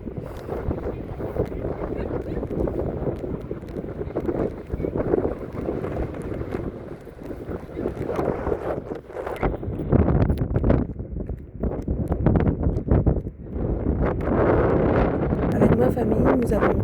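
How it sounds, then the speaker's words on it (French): Strong wind buffets the microphone at the seaside in Brittany, a continuous roaring gust that swells and dips in loudness, with bursts of rumble and no clear other sounds. "mais il y a du vent."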